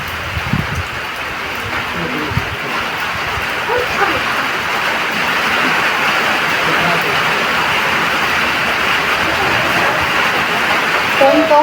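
Rain falls steadily and fairly loud outdoors, a continuous hissing patter that runs throughout, with a few brief thumps near the start and faint background sounds.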